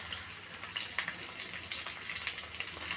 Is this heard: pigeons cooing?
no